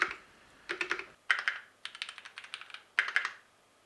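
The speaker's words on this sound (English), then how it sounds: "Only noise I didn't like from this keyboard was the spacebar." A Keychron Q1 mechanical keyboard clacks in close, crisp bursts of keystrokes, with several heavier spacebar thumps among quick typing runs and short gaps between.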